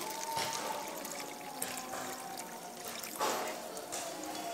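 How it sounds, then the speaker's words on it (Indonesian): Tap water running steadily during a school physics lab experiment, a continuous hiss of flow with a slight surge partway through, fairly close and with no voices over it. "kita akan menggunakan keran yang airnya besar."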